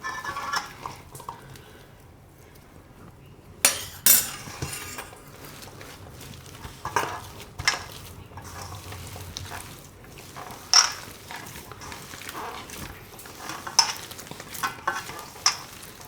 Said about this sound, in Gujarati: તો આ બધું આપણે મિક્સ કરી લીધું છે